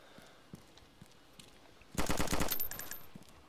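Burst of automatic gunfire in the survival video game DayZ, a rapid string of loud shots lasting about a second, standing out against faint background ambience.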